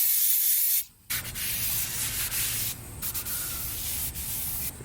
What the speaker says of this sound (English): I'm going to spray some brake clean onto a paper towel and just wipe it down.